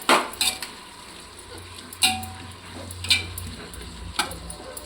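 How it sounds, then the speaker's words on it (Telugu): Tomatoes go into hot ghee in a pan, with a soft sizzle running underneath, a few sharp clinks of a utensil against the pan, and stirring scrapes. "ఇప్పుడు టమాటో వేస్తాను. నెయ్యి వేసాం కదా"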